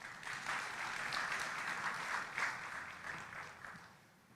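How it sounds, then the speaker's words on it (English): Audience applause at the 18th COMESA Business Forum and Exhibition at KICC, a steady, moderately distant wash of many people clapping that swells and gradually fades over a few seconds. "let's give him a round of applause,"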